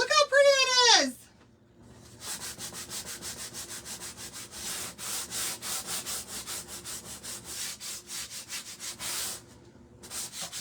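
Someone briefly talks, then sandpaper rubs across a wooden pumpkin in quick back-and-forth strokes, repeated steadily and close up.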